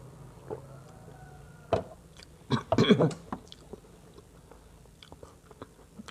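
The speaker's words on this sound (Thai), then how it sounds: "มีขนมเนาะขนมคุกกี้ น่ารักน่ารัก กินนะคะ กินไป" Crunchy cookies being bitten and chewed alongside morning coffee, a few close crisp bites and munching sounds spread over a quiet background.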